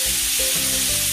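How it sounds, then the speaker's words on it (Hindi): Chopped tomatoes hitting hot oil and spices in a pan for a bottle gourd and chana dal sabzi, a loud, dense, continuous sizzle close up with no voices. "इसके अंदर हम कटे हुए टमाटर डाल देंगे"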